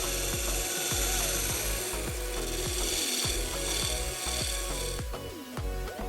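A wood lathe turns a stabilized pinecone blank while a tool flattens its face, giving a steady close rasping scrape with a repeating rhythmic catch as the uneven cone surface spins past the cutter, continuous and loud with no talk.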